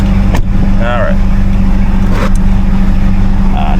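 An old 1980s car drives in Cuba, its loud engine droning steadily from inside the cabin, with brief voices heard over the running motor.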